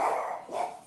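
A dog gives a couple of short barks, moderately loud and close, in under a second.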